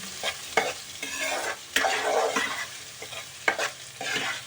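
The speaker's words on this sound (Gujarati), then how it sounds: "હવે આપણે એને ઘડીક ડુંગળીને તળવા દઈશું" Steady frying sizzle of chopped onions in a pan with repeated scraping knocks of a spoon stirring, close up, no voices.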